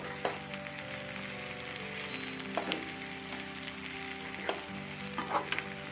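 Onions frying in oil until brown, for Indian-style masala macaroni, a soft, steady sizzle with a few sharp spoon scrapes and knocks against the pan at intervals, no voices.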